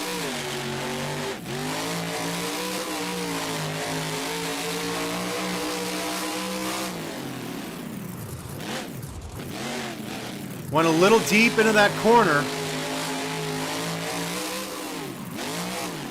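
A monster truck engine in the BeamNG driving game, revving with a steady rising and falling growl, dipping midway and then surging in harsh high bursts, as a commentator talks over it.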